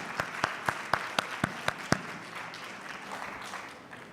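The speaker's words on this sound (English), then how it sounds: "please give a round of applause for all 8 of our panelists on stage" A handful of distinct claps ring out, sparse and evenly spaced, then fade into a soft, diffuse patter of audience applause for panelists at a tourism forum.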